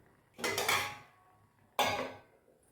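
A lid set down on a cooking pan of ivy gourd curry in a home kitchen: two distinct metallic clanks about a second and a half apart, each ringing briefly before dying away, close and alone.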